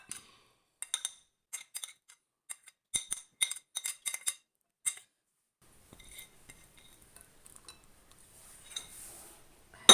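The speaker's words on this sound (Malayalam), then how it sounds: "നമുക്ക് അരിഞ്ഞു വെച്ച എല്ലാ പച്ചക്കറിയും മുട്ടയും ആപ്പിളും എല്ലാം നമുക്ക് ഇതിലേക്ക് ഇടാം" Chopped vegetables, boiled egg and apple are tipped into a bowl for a weight-loss salad, giving a run of light, sharp clicks and clinks in irregular clusters, close and quiet, followed by softer rustling and no voices.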